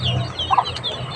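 Chickens cluck nearby in a short burst, with a soft cluck in the middle over steady outdoor background noise.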